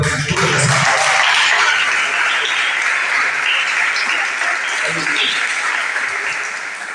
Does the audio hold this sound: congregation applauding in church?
yes